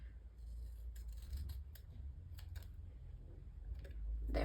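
Scissors make several quick crisp snips at close range, quiet and intermittent over a soft background hum.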